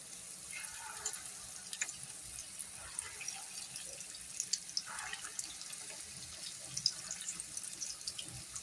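Dahi vada batter sizzles in very hot oil, a faint, steady crackling hiss with scattered small pops throughout, no voices.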